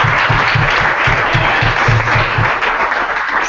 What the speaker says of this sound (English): here I want to give a round of applause to the TechPeakers who did this